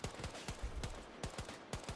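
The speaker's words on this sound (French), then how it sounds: "J'ai pas l'habitude de tirer sur Battlefield" Rapid bursts of automatic gunfire in the video game Battlefield, evenly spaced sharp shots firing about four per second, loud and close with no talk.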